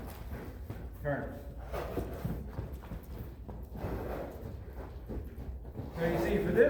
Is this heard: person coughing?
no